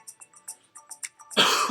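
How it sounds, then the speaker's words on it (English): A single sharp cough bursts out close to the microphone at the end, after a run of short rhythmic clicky sounds, during a gaming livestream. "Sorry about the cough."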